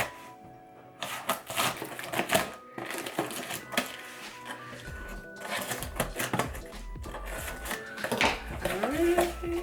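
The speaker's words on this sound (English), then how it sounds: "We got the scissors. Let's cut her open." Scissors cut open a package holding a Molten volleyball: a run of crisp snips and crackling plastic or cardboard rustles, close and moderately loud, with irregular bursts throughout.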